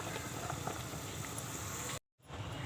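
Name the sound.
water heating in a pressure cooker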